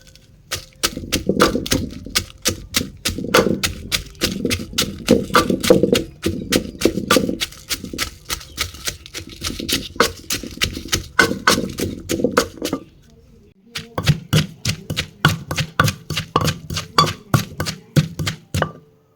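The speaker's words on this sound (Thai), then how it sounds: "ต่อไปก็จะเป็นการตำนะคะ" Rapid, steady pounding of chili in a mortar with a pestle, dozens of sharp close knocks in quick rhythm, briefly pausing before resuming.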